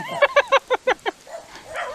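A small dog yaps in a quick burst of about six sharp barks, then gives a few softer whines.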